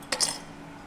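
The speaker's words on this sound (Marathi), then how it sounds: "ह्याच्यात आपण 2-3 बर्फाचे खडे टाकून घेऊ." Ice cubes clink into a glass in two quick, bright taps close by, then the sound fades into quiet room tone.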